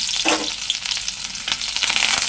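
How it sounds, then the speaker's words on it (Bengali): Crushed garlic dropped into a little hot oil in a pan for a Bengali katla fish curry with potatoes, giving a loud, continuous close-up sizzle and crackle with a few sharper spits. "প্রথমেই আমি রসুন থেতো করাটা দিয়ে দিলাম।"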